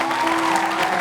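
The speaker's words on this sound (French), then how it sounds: "On les applaudit encore très fort, s'il vous plaît." Studio audience applauding guests on a French television show, a brief, dense and steady burst of clapping with a faint tonal hum underneath.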